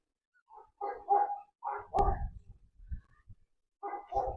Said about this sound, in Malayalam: നായ കുരക്കണുണ്ട്